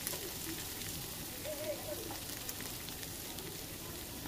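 Long-sliced onions frying in a pan for a Bengali kalmi shaak chorchori, a soft continuous sizzle with light spattering, fairly quiet and without speech.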